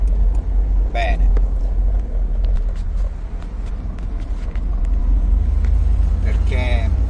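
A Mercedes SL R230 open-top roadster drives along a road, with a steady engine and road rumble filling the background and brief sharp clicks and squeaks above it.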